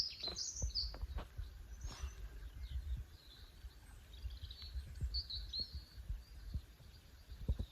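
Small birds chirp intermittently in the background, high and fairly faint, over a low rumbling outdoor ambience on an overcast day on a walk between Dorset and London, with no talking.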